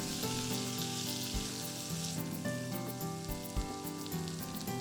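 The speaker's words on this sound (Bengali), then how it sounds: "একটু কষিয়ে নিচ্ছি" Chickpeas and potatoes sizzle steadily as they are sautéed in a pan for chola bhuna, a soft continuous frying hiss with faint scraping stirs, quiet and close.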